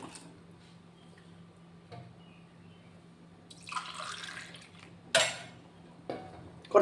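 Milk pours briefly into a container with a splashing gush, followed by a few light clinks of kitchenware.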